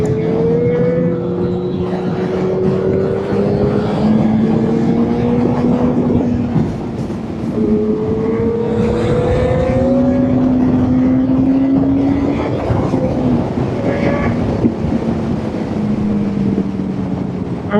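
A motorcycle with synchronised throttle bodies rides along a country road, its engine droning steadily and loud throughout, pitch rising and falling with the throttle as it speeds up and eases off.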